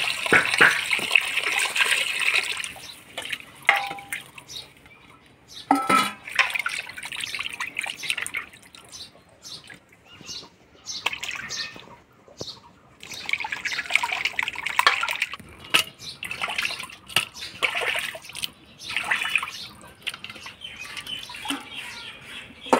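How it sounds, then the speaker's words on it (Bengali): Raw chicken meat is washed by hand in water, with irregular splashes, drips and sloshing bursts that come close and fairly loud, pausing between rinses, and no talking. "মাংসটা ধুয়ে নিলাম"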